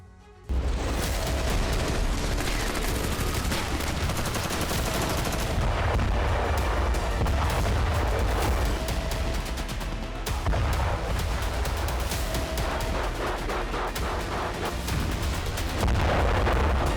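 Sustained, dense rumble of an artillery bombardment during the Israel-Hamas war, heavy booms and crackling blasts running together loudly almost without pause, with no talk.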